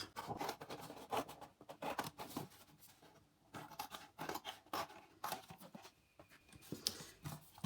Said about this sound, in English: I've drawn my black line and I'm going to cut that out, and it's going to make a screen.